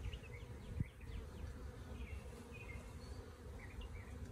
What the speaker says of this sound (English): I see a lot of bees gathered and clustered around the top up here.